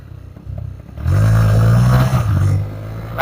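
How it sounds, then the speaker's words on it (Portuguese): A motorcycle running low on fuel on a cold road ride, its engine note rising loud and steady after a quieter first second, with slight unevenness toward the end as it falters. "Tá querendo se apagar, tá sem gasolina."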